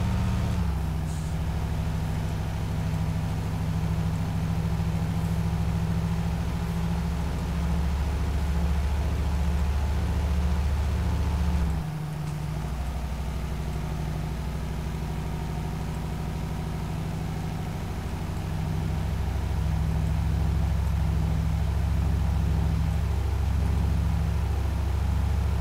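A Kenworth W900 truck engine in Euro Truck Simulator 2 drones steadily at a low, even pitch for the whole stretch, with a brief dip near the middle before the rumble resumes, moderately loud and without speech.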